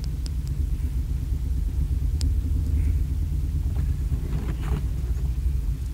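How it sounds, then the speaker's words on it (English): A car drives along Route 1 with a steady deep road rumble and low engine drone, constant and close, with a few faint clicks and no talking. "driving back to work after lunch"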